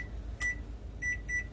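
A kitchen timer gives three short electronic beeps as it is set for 30 minutes to bake egg custard, with a low hum underneath.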